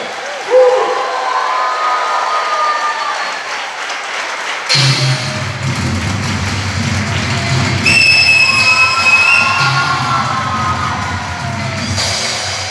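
A congregation at a Hindi-speaking church gathering bursts into loud, sustained applause and cheering, with shouting voices mixed into the clapping throughout.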